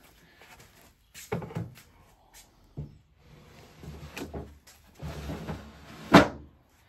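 Wooden drawer sliding into an 18th-century style case, heard as a series of soft knocks and scrapes as it is fitted in, ending with a sharper closing thump.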